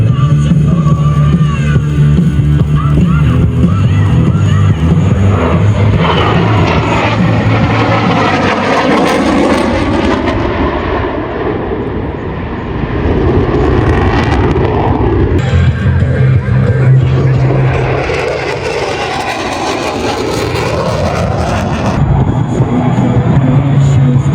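A fighter jet passes through a low, inverted flypast at the Australian International Airshow at Avalon, a loud continuous roar that swells and dips as it goes by, with crowd talk faintly underneath.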